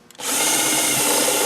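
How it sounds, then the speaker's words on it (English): A power drill spins up and bores through a pull bar, widening a center hole to 1/2 inch, a loud sustained whine and grind heard close and alone. "and we'll drill this"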